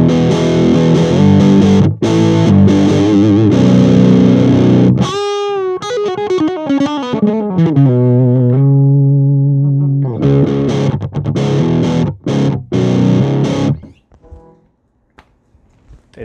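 Electric guitar through the lead channel of a Kyro Audio Dulo amp pedal: loud distorted chords and riffs, then a sliding bend that falls away into a sustained note, more heavy strums, and finally a fade to near silence.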